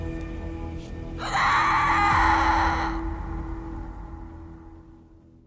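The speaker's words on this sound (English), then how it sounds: "began with a terrifying, blood-curdling scream" A single long, piercing scream rings out loudly, sustained for a couple of seconds before cutting off, over a low background hum.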